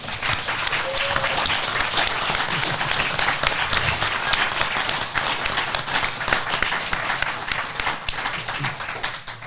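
Audience at a live podcast event applauds steadily, a dense wash of many hands clapping that holds at an even loudness throughout with no talk over it.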